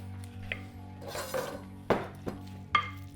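A utensil scrapes and clinks against a pan while greens with pancetta and cheese are mixed, a few sharp metallic taps over a faint low hum, quiet and close.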